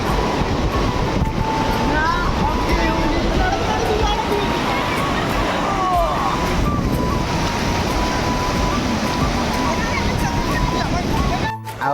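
Floodwater rushes loudly and steadily through a flooded village in Odisha, India, a constant roaring flow with a voice faintly audible underneath.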